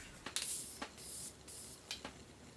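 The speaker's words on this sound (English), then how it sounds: "I'm also going to finish up with some setting spray" Several short hissing sprays of makeup setting spray mist, close by, spaced irregularly with quiet gaps between bursts.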